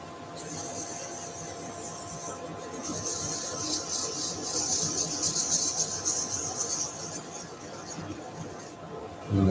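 Steady abrasive rubbing of sandpaper against a turned wood piece spinning on a lathe, a continuous close rasping hiss that swells slightly midway, with no talk.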